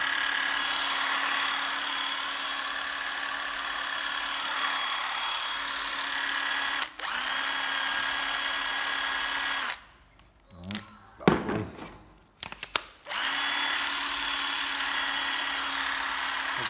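A Japanese cordless power drill runs in long steady whirring stretches close by, stopping briefly around the middle amid handling clatter before spinning up again.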